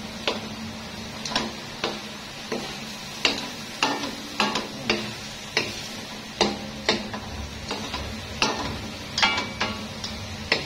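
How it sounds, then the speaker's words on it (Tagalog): A spoon scrapes and clacks in a hot pan as ginisang upo (bottle gourd) with ground meat is stirred, making regular sharp strokes about every half second over a faint, continuous sizzle. "Haluin natin siya."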